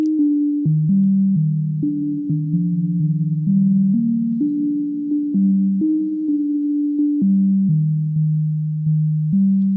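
A synthesizer playing a stepped, pitched melody with a soft tone, notes sustained and blurred by a reverb tail, steady and fairly loud with no voices.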